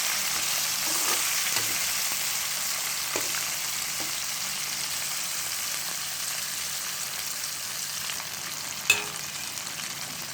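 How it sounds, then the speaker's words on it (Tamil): Fish fries in oil in a pan, giving a dense, steady hiss of sizzling that holds evenly throughout, with a few faint clinks and one brief sharp knock near the end, no voices. "இந்த மீனை இந்த எண்ணெயில் நடுவில் வச்சிடணும். இது கொஞ்சம் நேரம் இந்த எண்ணெயிலே பொரியணும்"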